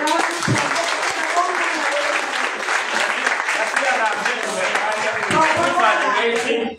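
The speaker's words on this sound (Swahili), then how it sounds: "Pigia Yesu makofi." A church congregation bursts into sustained applause at a Christian gathering, dense overlapping clapping filling the room for several seconds, with voices mixed into the crowd noise.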